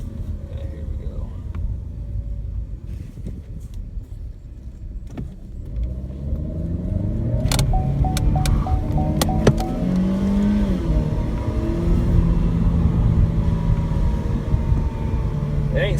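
A 2017 Chevy Sonic revs and accelerates while attempting to drift, its engine swelling from a low idle to a loud, strained roar with climbing pitch, heard from inside the car with a person talking over it.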